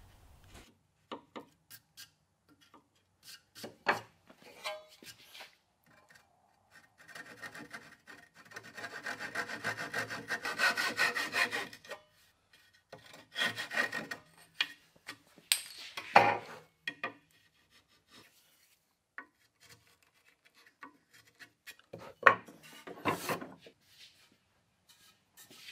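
Hand sawing of a wooden dovetail joint for a soccer goal post built with traditional joinery, heard as quiet bursts of rasping back-and-forth strokes separated by pauses.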